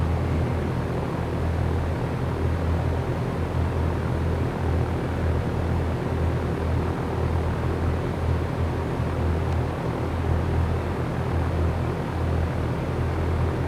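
A steady, unbroken aircraft engine drone plays from the X-Plane flight simulator, a constant mid-level hum with no variation across the whole stretch.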